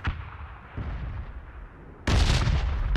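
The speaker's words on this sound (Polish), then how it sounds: "Teraz widać kilka wybuchów." Explosions from a bombardment in PUBG on a new desert map boom in, one dull blast early and a much louder, close burst that rumbles on through the last second.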